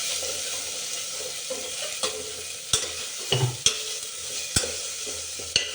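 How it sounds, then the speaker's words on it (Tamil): Rice and lentils are stirred in a frying pan with a spoon, soft sizzling underneath a steady scraping, and sharp metallic clinks of the utensil against the pan at irregular intervals, close by. "நல்லா கிளறி விட்டுக்கோங்க."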